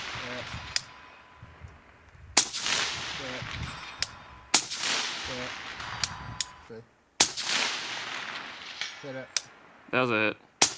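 Shots from a 16-inch BCA rifle fired outdoors, about five sharp cracks spaced a couple of seconds apart, each with a short echoing tail, and a voice talks briefly between them.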